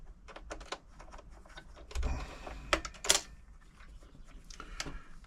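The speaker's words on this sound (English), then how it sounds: "put the sewing foot back on" Small clicks, taps and a few sharper metallic knocks as the foot is fitted back onto a Frister & Rossmann 904 sewing machine, quiet and irregular over a faint background hum.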